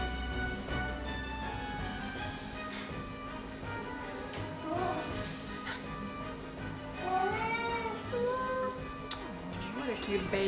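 A mountain cat meows loudly and repeatedly in rising and falling calls over a steady background hum, with a person speaking softly at times.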